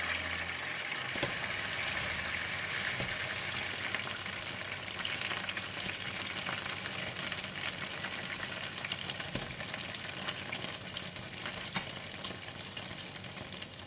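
Beef sizzles and fries in a pan for stew, a steady close crackle and spatter holding at an even level throughout with no one talking.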